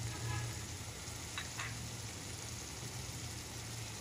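Minced meat qeema frying in oil in a pan, giving a steady, even sizzle like soft hiss throughout, fairly faint, with a brief scrape partway through.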